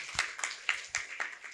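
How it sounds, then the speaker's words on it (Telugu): Audience clapping for guru Patriji at a Sangeetha Nadha Dhyana Yagnam meditation gathering, faint and sparse, a handful of separate claps spaced about a quarter second apart rather than full applause. "మన పరమ గురువులు పత్రిజీ గారికి ఒకసారి చప్పట్లు పడదాం"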